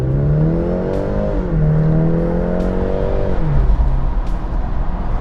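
Turbocharged engine of a 2024 BMW 430i xDrive convertible pulls hard under full throttle, a steady loud drone whose pitch climbs, drops briefly at a shift, then rises again, with road noise underneath.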